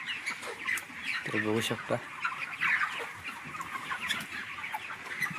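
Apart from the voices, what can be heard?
broiler chickens clucking on poultry farm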